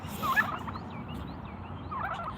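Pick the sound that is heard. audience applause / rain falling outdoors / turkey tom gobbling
turkey tom gobbling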